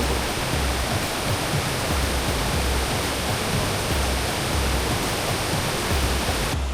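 Ermayi waterfall roars in a steady, dense rush of falling water, loud and continuous from close by with no pauses or voices.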